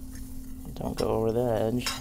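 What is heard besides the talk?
stirring seasoned mixture in a bowl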